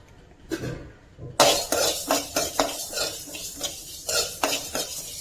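A metal spoon scrapes and stirs mustard seeds and cumin roasting in a pan in quick repeated strokes, close and clattery, with a faint sizzle underneath.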